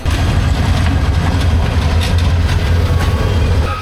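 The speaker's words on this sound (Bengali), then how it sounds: "কালনি এক্সপ্রেস ট্রেনে আর এখন এইমাত্র ট্রেন ছেড়ে দিছে" Kalni Express train pulling out of Brahmanbaria railway station on the Dhaka to Sylhet route, a steady loud low rumble of rolling wagons and engine with faint rail clatter throughout, no talking.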